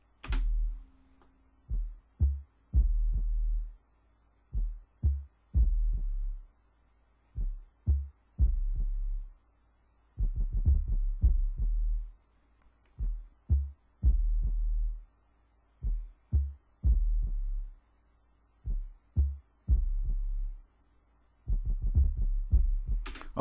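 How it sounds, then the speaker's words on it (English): A rhythmic synth bass preset from an Anarchy Audioworx plugin plays short, punchy low notes in a syncopated pattern, with brief gaps between clusters of hits. It sounds alone and moderately quiet. "I wanted the bass to sound somewhat more rhythmic than melodic"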